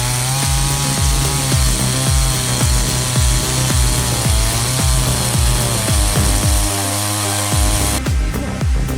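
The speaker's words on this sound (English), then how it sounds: "the chainsaw is used to buck the fallen tree into shorter sections" A chainsaw roars loudly and continuously in a forest, its engine pitch dipping and surging rhythmically as it bucks a felled tree into shorter sections, close and uninterrupted.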